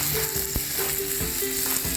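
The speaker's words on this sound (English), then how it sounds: "You can hear that sizzle." Steady, crackling sizzle of steak searing on a very hot Himalayan salt block, close and continuous, with faint soft clicks or taps now and then.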